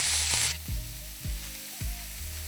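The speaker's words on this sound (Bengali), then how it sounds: "তারপর এটাকে একবার ভালো করে মিশিয়ে নিয়ে দিয়ে দিচ্ছি এখানে পেঁয়াজ কুচি" Chopped onion hits hot oil in a frying pan, already holding cardamom and a cinnamon stick, for chicken bharta: a loud, bright sizzle bursts up for half a second, then settles into a softer fry broken by a few dull stirring knocks.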